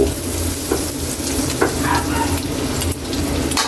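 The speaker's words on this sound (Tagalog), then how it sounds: "mainit na yung mantika natin. Lagyan na natin yung butter natin." Butter added to hot oil sizzles steadily in a pan for a squid dish, a constant loud frying hiss with small pops and crackles throughout.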